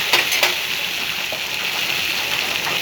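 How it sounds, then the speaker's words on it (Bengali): Water from a mug is poured into a pan of sautéed potatoes, giving a loud, close, hissing gush with sizzling that runs steadily for a few seconds with no talking. "আলুটা কষানো হয়ে গেছে, এখন দিয়ে দিচ্ছি জল।"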